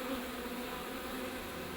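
Honey bees buzz in a steady, dense drone with no breaks, a continuous mass of wingbeats heard close but at low volume.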